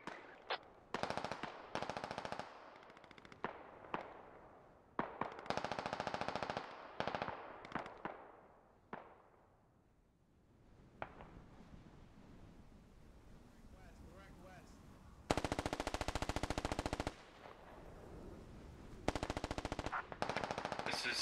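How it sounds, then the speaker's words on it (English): Bursts of automatic gunfire in the SquadOps military shooter game, repeated volleys of loud rattling shots separated by quieter gaps with wind and distant noise, with brief voices in between. "We're opening fire on them now."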